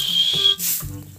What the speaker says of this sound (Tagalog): Hindi ako natutuwa sa pito mo.